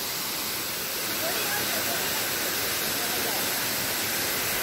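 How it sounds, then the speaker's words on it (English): Xinliao waterfall in Dongshan, Yilan, Taiwan, heard as a loud, steady, dense rush of falling water filling the whole clip. "Waterfall， 这是Qing Liao瀑布"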